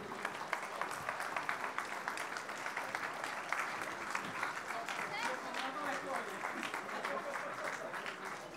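An audience at the opening ceremony of the WAC 2019 applauds the Polish team with sustained, moderately loud clapping and some crowd murmur under it.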